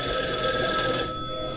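An old landline telephone rings in a tense scene from the 1974 horror film Black Christmas, a loud, shrill, continuous bell that cuts off near the end, with no voices.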